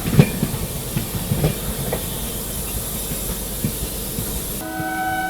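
A Dehradun–Subedarganj Express rolls past at a junction platform in a steady, loud rush of wheels and carriages with hissing, sharp clacks over rail joints, and a sustained horn blast breaking in near the end.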